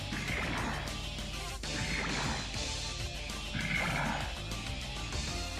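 A robot in the video game Super Robot Wars 2ndOG lets out a loud horse whinny amid a dense, continuous wash of game music and battle effects.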